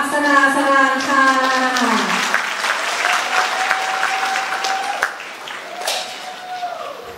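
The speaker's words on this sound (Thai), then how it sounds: "ขอเสียงปรบมือต้อนรับการแสดงชุดมฤคเทวาอักษราสราค่ะ" An audience at a Thai university cultural performance closing ceremony in an auditorium breaks into sustained, dense applause welcoming a dance act, loud at first and gradually thinning; an announcer's voice trails off over the opening.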